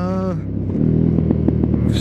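A 2018 KTM 1290 Super Adventure S motorcycle engine, rated at 160 horsepower, rumbles at close range, a low steady idle with a brief rising rev at the start, running alone without talk.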